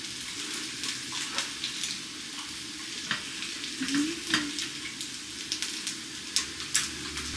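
Takoyaki batter frying on a home griddle gives a steady close sizzle, with scattered clicks and scrapes from stirring and turning the balls and a few brief bursts of crackle.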